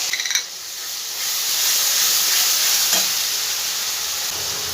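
Ginger, garlic and onion paste frying in a pan for a Bengali chicken chana masala makes a steady, bright sizzle that swells after a brief scrape and stays strong with no talking.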